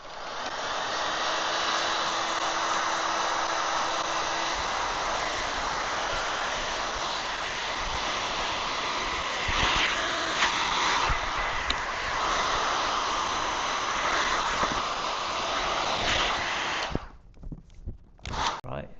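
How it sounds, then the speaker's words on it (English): Heat gun blowing hot air in steady pulses while heating vinyl wrap on a car bonnet, a loud continuous hiss and roar lasting most of the clip before cutting off into brief bursts near the end. "make sure you pulse heat it"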